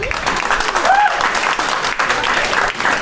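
Comedy club audience breaks into sustained applause, steady and dense for about three seconds, with scattered cheers and crowd voices mixed in.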